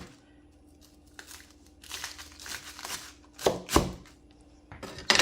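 Knife chopping fresh cabbage for traditional sauerkraut, giving scattered crisp crunching and slicing strokes, sparse at first and then louder in bursts near the end, close by with no talking.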